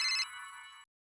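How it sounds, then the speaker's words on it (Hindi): An electronic phone ringtone chirps in a bright tonal burst, settles into a steady ring, cuts off, then starts again briefly at the very end. "फिर से आया फोन।"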